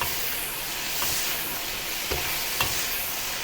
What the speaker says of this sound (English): Quick stir and fry it over high heat